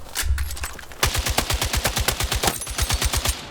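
Full-auto gunfire in the Battlefield 6 firing range: a short burst, a brief pause, then a long fast stream of sharp, loud, evenly spaced shots at close range.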